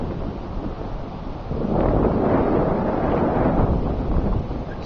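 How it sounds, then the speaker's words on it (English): Strong outdoor wind buffets the microphone in a continuous broadband roar along a road near woodland, swelling louder partway through, with no voices. "It's very windy, so you probably can't hear me."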